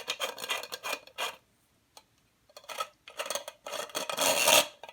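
Parts of a cheap homemade flashlight are screwed together by hand, giving close, scratchy rasping turns in short bursts that are split by brief pauses.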